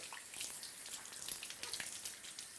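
Warm running water pours over a scalp as shampoo is rinsed out of hair over a hair system, a steady close splashing hiss with soft droplet patter throughout.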